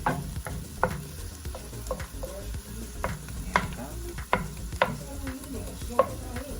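Seasoned meat with peppers sizzles in a pan for lasagna sauce while a wooden spoon stirs it, giving a steady close fry with regular sharp taps and scrapes of the spoon against the pan.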